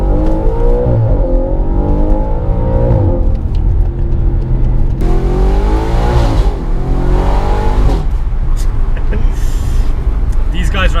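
Audi RS4 engine revving loudly up close, with repeated rising and falling throttle blips and deep rumbling swells through the exhaust, while someone talks over it.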